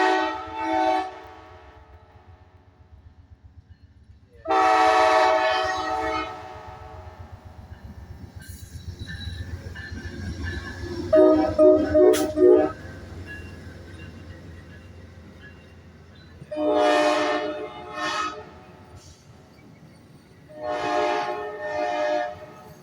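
An Amtrak train on a Norfolk Southern line approaches and passes, sounding several long horn blasts spread across the clip, with a rumbling wheel-and-rail roar and a brief metallic squeal in between.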